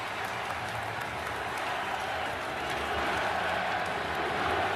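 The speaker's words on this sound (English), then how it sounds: "sounds like the crowd at the hockey game were pretty mad that Jack Hughes was allowed to come back" A hockey arena crowd reacts with a dense, steady roar of noise and scattered clapping that builds slightly, heard at a distance without clear individual voices.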